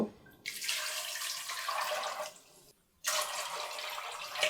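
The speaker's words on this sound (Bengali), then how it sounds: "চার কাপ মতো পানি দিয়ে দিলাম" About four cups of tap water gushing into a pot of soaking kabuli chickpeas being readied for boiling, two steady pours separated by a brief stop, close and fairly loud.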